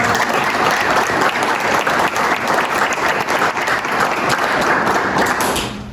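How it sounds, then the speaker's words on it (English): A room full of people at a village board meeting in Larchmont breaks into steady, full applause, thick, continuous clapping that holds evenly before fading out in the last second. "maybe a round of applause for"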